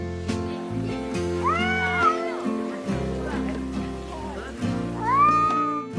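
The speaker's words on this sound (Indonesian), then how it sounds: "Biasanya kucing akan mengeluarkan suara menggeram saat berkelahi dengan kucing lainnya." Cats fighting give two drawn-out, rising and falling yowls, separated by a few seconds, over steady background music.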